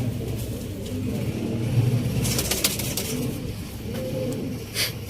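Pigeons kept by a fancier in Sialkot coo in a low, continuous murmur of overlapping throaty calls, with a faint rumble underneath and a few brief higher sounds, no talk.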